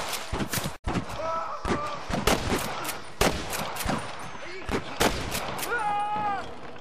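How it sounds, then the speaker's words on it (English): Gunfire in the Western video game Red Dead Redemption, a series of sharp shots spread irregularly through the stretch, some close and loud, mixed with game voices and effects. "I can hear more gunshots."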